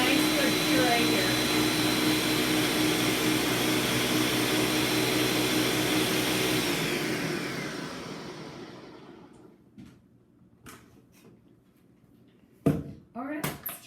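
A blender whirs loudly while pureeing a green smoothie, a steady motor roar that winds down over several seconds, followed by quiet knocks and clatter of the jug.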